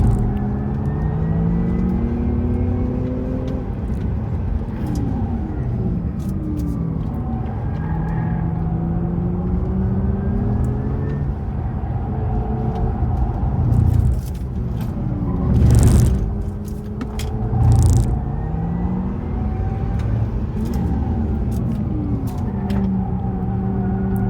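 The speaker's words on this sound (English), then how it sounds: "I'm just including this footage basically so you can enjoy watching these lovely cars on the track" Several cars, including a Porsche Taycan, lap a race track at a motorsport club track day, their engines and tyres whirring and rumbling steadily as they pass, with louder surges as individual cars rush by nearby.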